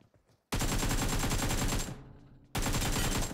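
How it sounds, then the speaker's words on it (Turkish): Sustained automatic gunfire from a firefight in the battle-royale mobile game PUBG Mobile, loud and dense, bursting for about a second and a half, tapering off, then resuming abruptly after a short pause. "Şu çatışma sesine bir baksana."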